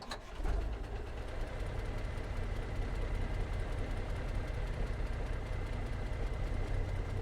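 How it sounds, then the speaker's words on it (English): Freightliner FLD truck in American Truck Simulator fires up with a sharp start, then settles into a steady, loud, low diesel idle rumble that continues alone without talk. "Let's start this truck up and hear it."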